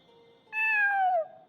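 A cat in the video game Honkai Impact 3rd gives a single clear, drawn-out meow that falls in pitch, close and loud against a faint background tone.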